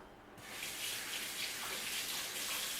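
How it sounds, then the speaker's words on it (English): A kitchen tap turns on and runs steadily as hands are washed under it, a close continuous rush of water after a brief quiet start. "Give my hands a quick wash."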